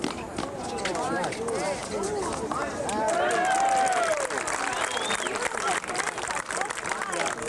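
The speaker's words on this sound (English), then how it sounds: "Crowd appreciation there." Crowd noise swells at a one-wall handball match, a dense wash of clapping and cheering that builds and holds steady, with a commentator talking over it throughout.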